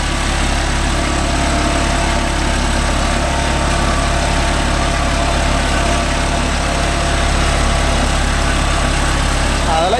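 Deutz-Fahr 80 hp 4WD tractor with a 500 kg front weight, pulling a five-point cultivator through farmland, its engine running at low throttle in a loud, steady, continuous drone with no pauses.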